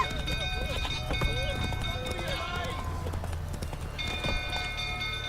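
Hooves of Roach, the horse in The Witcher 3, beat in a steady clip-clop gallop close by, with a voice talking over them and game sounds mixed underneath.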